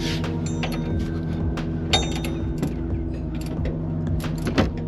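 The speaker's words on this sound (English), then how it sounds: "All right, I went and grabbed my ratcheting wrench here." A ratcheting wrench turns a bolt during a power steering pump replacement on a Toyota Tundra 5.7, with close, steady clicking and metallic creaks over a continuous low hum.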